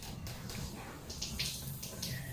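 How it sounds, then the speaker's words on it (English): Water runs from a sink tap for hand washing in a steady, moderate stream, with splashing that rises and falls as hands move under it. "We can now turn on the water and make sure to adjust its force"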